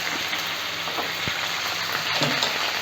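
Mint and curry leaves sizzle steadily in hot oil in a pan while being stirred, a dense continuous crackle with occasional scraping knocks from the mixing, close and fairly loud with no talking.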